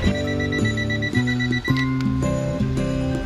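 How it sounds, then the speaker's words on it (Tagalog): Alarm clock ringing in a home in the morning, a loud, close, repeating electronic melody of stepped tones with no voices over it. "ngayon ka pinag-alarm kung kailan ang sarap ng tulog ng batang makulit"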